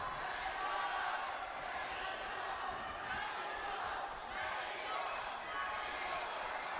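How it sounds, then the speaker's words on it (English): A boxing arena crowd chants during an India versus Kazakhstan bout. A dense, continuous roar of many voices fills the space, steady and distant-sounding, with a commentator talking over it. "Listen to the crowd rise up the chant of Mary Kom once again."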